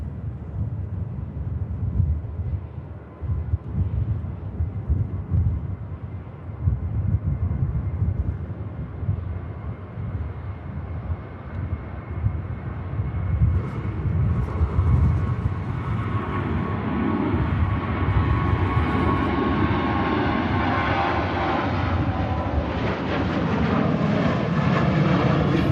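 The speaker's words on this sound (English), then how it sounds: "Next aircraft out, Brussels bound Papa Delta here of Ryanair." A Ryanair airliner bound for Brussels departs Manchester Airport, its jet engines rising into a loud, steady roar that builds and brightens over the final seconds, heard from outside with some wind buffeting.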